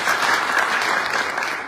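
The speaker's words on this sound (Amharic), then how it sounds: "ጭብጨባ ያስፈልጋል።" Loud, close audience applause at a community fundraising gathering for a stadium construction, dense continuous clapping that tapers slightly at the end, with no speech over it.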